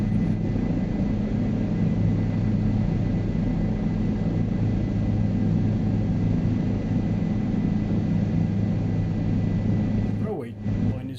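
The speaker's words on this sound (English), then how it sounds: "We're in the helicopter now." A steady, droning helicopter engine in Flight Simulator 2024 hums continuously at close range, with a faint voice under it, then cuts off abruptly near the end.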